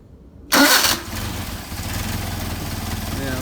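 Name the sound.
Mercedes 190SL engine with Solex 44PHH carburetors starting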